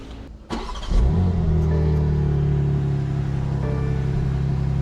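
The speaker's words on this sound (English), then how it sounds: "let's go ahead and crank the car all the way up and make sure everything's running right" A BMW M3 G80 engine with a RaceChip GTS Black tuning module cranks briefly, catches and settles into a steady, loud idle rumble close by, with no talking.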